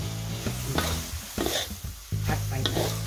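Wild boar stir-fried with red curry paste in a hot pan, with loud continuous sizzling and repeated scraping and clanking of a utensil stirring close up, with no talk over it.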